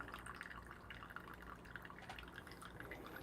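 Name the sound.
water dripping from coffee machine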